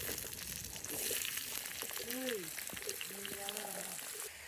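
Onions sizzle in a pan while onion thokku is cooked village style, a faint, steady frying hiss under talking.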